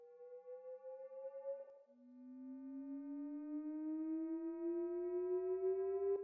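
A pure electronic tone glides slowly upward in pitch, with a second sliding tone joining partway, giving a thin, metallic ring-modulated quality.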